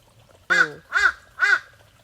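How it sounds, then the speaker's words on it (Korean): A crow caws loudly three times in a row, close by and clear, each harsh call separated by a short pause against a quiet background. "까마귀가 너무 우는데요?"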